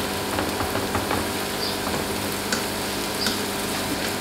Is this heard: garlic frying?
yes